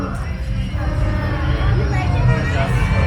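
Dense crowd chatter and babble surround Chewbacca at Star Wars Galaxy's Edge in Disneyland, a steady close hubbub of many overlapping voices with no single speaker standing out.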